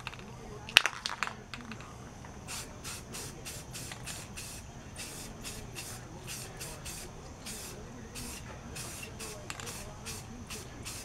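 Spray paint coats an aluminum wheel in short hissing bursts, repeated at a steady pace, fairly faint and close over a quiet room background, with a few light handling clicks early on.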